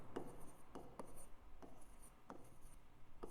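Chalk scratches across a classroom board in short, evenly spaced strokes as a teacher writes a Hindi sentence, a steady rhythmic scraping with no talk.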